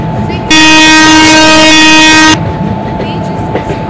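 An Android train simulator plays a loud, steady two-second horn blast as an express train departs the platform, with a station announcement voice faintly underneath.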